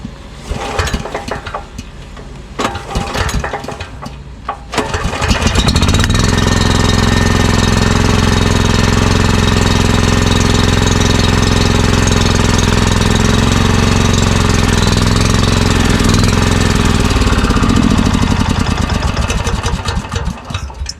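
A small gasoline engine in an EZGO 1200 Workhorse utility golf cart, cold and on choke, cranks a few times, then catches and runs steadily at a loud, rough idle with a knocking rhythm.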